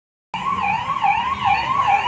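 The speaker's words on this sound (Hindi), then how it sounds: "भाई साहब एम्बुलेंस का बरसात आती यार" An ambulance siren wails continuously with a rising and falling pitch, loud and steady after a short silence, amid crowds and accidents at a large celebration in Sadiya, Assam.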